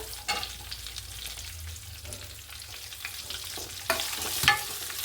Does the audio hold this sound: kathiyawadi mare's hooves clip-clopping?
no